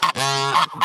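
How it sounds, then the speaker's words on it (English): A male domestic goose (gander) honks loudly and close, one long nasal call with strong harmonics followed by shorter honks at the start and end. "a gander is a boy goose"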